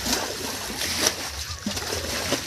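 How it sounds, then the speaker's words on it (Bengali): Fish jumping and splashing in shallow water left in a drained field, with repeated close watery splashes and sloshing while someone talks over them outdoors. "এই যে মাছ সব লাফাচ্ছে দেখুন"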